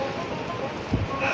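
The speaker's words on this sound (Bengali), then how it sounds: "প্রচণ্ড বাতাস" Strong wind roars steadily across the microphone in a rainy rural monsoon setting, a dense continuous rush with a brief gusty thump partway through.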